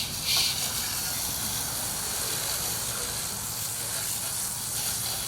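Steady hose water rinsing a motorcycle during cleaning, a continuous close hiss and spray with a brief louder burst near the start, no talk.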